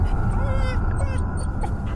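A dog outside whimpers in a few thin, high whines over a loud background, with people talking nearby.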